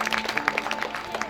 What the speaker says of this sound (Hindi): और एक बार बिजू दाऊ पर जोरदार ताली की अपेक्षा